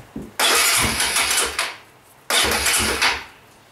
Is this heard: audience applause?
no